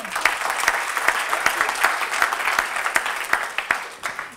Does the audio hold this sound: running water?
no